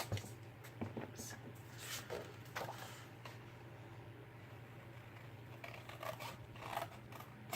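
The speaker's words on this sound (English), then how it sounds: "make sure you cut all the way up to the middle line" Scissors snip through paper card in a quiet room, a series of short, faint crisp cuts spaced irregularly over a low steady hum.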